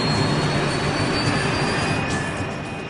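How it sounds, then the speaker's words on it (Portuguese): British-built BAE-146 airliner's turbofan jet engines roar steadily up close, a loud, even broadband rush with a thin high whine that eases off slightly toward the end. "Hoje, eles estão pilotando um jato de ponte aérea BAE-146 de construção britânica."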